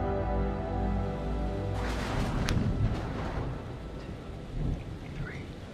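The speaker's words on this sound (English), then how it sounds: "The storm's 8 miles away." Thunderstorm in the video game Man of Medan: a long rolling thunder rumble over steady rain, with a sharp crack partway through and the roar slowly fading, no talk.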